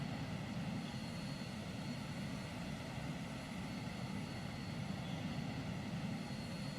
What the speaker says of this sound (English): jet aircraft in a World War II era naval game